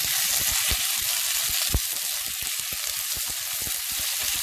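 Potato side dish stir-fried in a hot pan: a dense, continuous close sizzle with frequent light tapping of a utensil against the pan, no voices.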